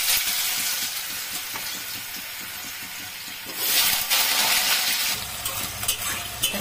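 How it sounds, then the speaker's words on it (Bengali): Potato pieces sizzle in hot oil with cinnamon and whole cumin, a steady close hiss that swells louder partway through, with occasional stirring; no one speaks. "এখন আলুটাকে ভাজবো ভালো করে"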